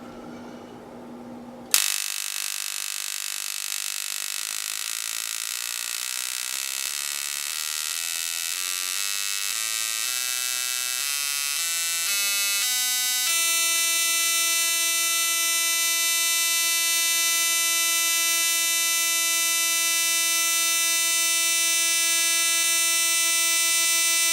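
Dual spark CDI ignition for a Banshee 250R fires on a test rig, its electric buzz climbing steadily in pitch as speed rises toward 10,000 RPM, then holding a loud, even whine.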